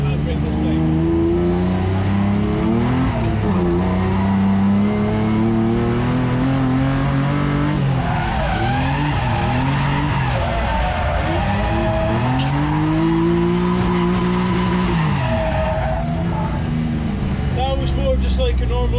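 BMW E36 M3 on a drift course, pulling the handbrake into a backwards entry: a loud, continuous engine roar rises and falls through several revs, with tire squeal and skidding layered in and a voice talking over much of it.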